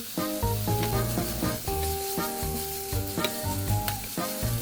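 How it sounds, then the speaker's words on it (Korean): Zucchini and onion stir-fry in oil alongside minced scallion and garlic in a pan, a close, steady sizzle with repeated stirring scrapes and clanks as the vegetables are moved around. "준비해둔 호박과 양파를 넣고 같이 볶아줍니다"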